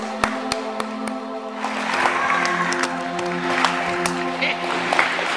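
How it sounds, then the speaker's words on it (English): Applause from a crowd at a Job Corps winter commencement ceremony, steady clapping filling the space for several seconds, with a few sharper claps standing out near the start. "give yourselves a round of applause"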